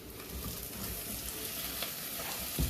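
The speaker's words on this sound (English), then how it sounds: "And then get deep fried in a minute. At 180 degrees." Parsnip crisps deep frying in oil at 180 degrees, a close, continuous crackling sizzle with a few sharper pops and one brief clunk near the end, no talking.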